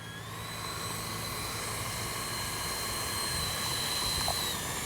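A Freewing F-22 RC jet flies over the field with a steady, high-pitched whine that holds evenly throughout, heard from a distance against outdoor background noise.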